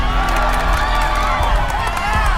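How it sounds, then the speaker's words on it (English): A large crowd cheers and shouts in a movie scene set in New York, a dense, continuous roar with children's and adult voices mixed, steady and loud throughout with no pauses. "Crowds cheer while violent crimes play out."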